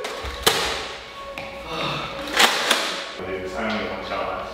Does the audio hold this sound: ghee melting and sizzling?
no